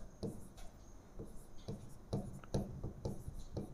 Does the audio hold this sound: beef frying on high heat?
no